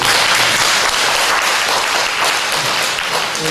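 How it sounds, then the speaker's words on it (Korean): A church congregation breaks into loud congratulatory applause, many hands clapping in a steady, dense roar that holds at full strength throughout without any voice over it. "우리 정말 축하의 박수 한번 보내드립니다"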